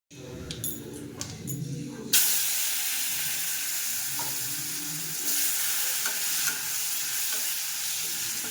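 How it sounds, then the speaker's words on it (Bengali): Potatoes sizzle loudly in hot oil in a pan after fried prawns have come out, to be cooked with katla fish, a steady frying hiss joined by the scrape of stirring and a faint voice early on. "আলুটা ভাজা করে নিই একটু, আর এখানে মাছটা ভাজবো"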